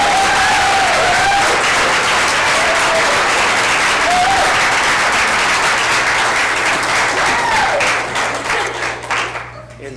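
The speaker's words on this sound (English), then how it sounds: "So let's give them one more round of applause." Audience applause in a hall after an evening of student radio dramas, loud and dense, a continuous wash of many hands sustained throughout before thinning near the end, with faint whistles or voices mixed in.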